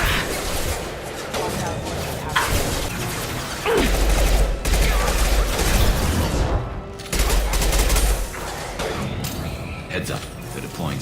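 Rifle gunfire from the video game Mass Effect 2: loud, dense bursts of combat fire with heavy booms and mechanical clatter running almost continuously throughout.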